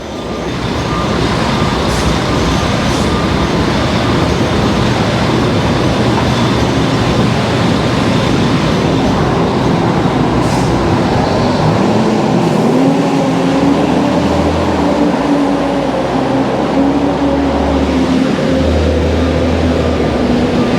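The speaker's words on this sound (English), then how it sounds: "that's what the buses sound like in Sydney. They're so noisy." A noisy city bus in Sydney roars past up close, a loud, continuous engine rumble with a rising whine building in its second half, heard alone without talk.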